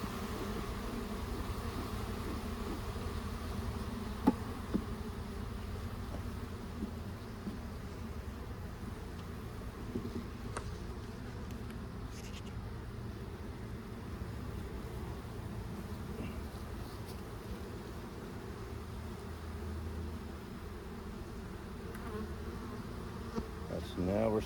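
Bees buzzing steadily around an open hive during an inspection, a continuous dense hum at moderate volume that persists without a break, with a few faint clicks and no talking.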